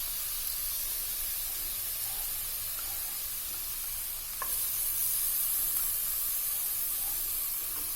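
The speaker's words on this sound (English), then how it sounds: "Now we are going to add the beetroot, which we have grated, and fry it for about 5 minutes." Grated beetroot fries in a pan with onion and garlic, giving a steady, soft sizzle and hiss throughout, with a faint stir partway through and no talking.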